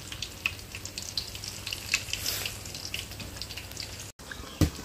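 Banana fritters sizzle steadily in hot oil in a pan, a dense, continuous crackling fry with scattered pops, close and fairly loud, with no voices.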